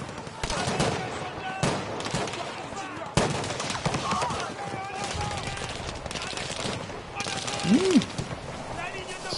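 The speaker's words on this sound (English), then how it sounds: "Alright, I got a machine gun now." Bursts of machine gun fire crackle in the shooter Battlefield 5, sharp repeated volleys scattered through a busy battle din, with a few louder cracks and a brief whistling tone near the end.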